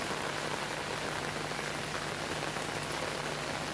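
Steady midday rain falling on a terrace, a dense continuous hiss of drops spattering the hard surface, even and close throughout with no voices.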